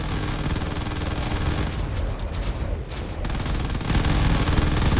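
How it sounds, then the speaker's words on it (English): Turrets in a space battle video game firing at a cruiser, a dense continuous barrage of rapid gunfire and booms, loud throughout, with brief dips in the barrage and no talking. "Now the remaining turrets just have to take out that cruiser, and they'll win the fight."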